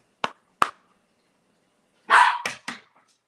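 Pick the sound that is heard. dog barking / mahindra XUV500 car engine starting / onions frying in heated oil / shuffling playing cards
dog barking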